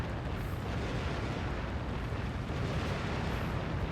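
Naval gunfire and explosions in the Warship Gunner 2 video game form a constant roaring wall of booming blasts and crackling bursts, loud and unbroken throughout, with no voices.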